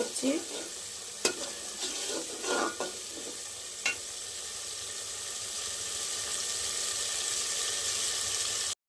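Spice masala for chicken kosha being stir-fried in oil, close spatula scrapes and knocks clustered early over a continuous crackling sizzle that keeps going steadily after the stirring stops, no voices.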